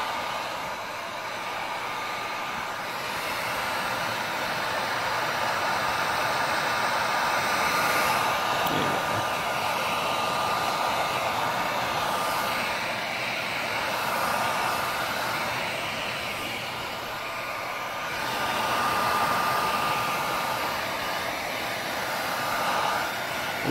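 Heat gun blowing on leather cowboy boots during restoration: a steady, loud whooshing hum with a thin whine runs the whole time, rising and falling slightly as the gun is moved, with no talking.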